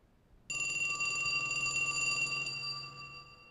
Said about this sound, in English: Isn't that your phone ringing?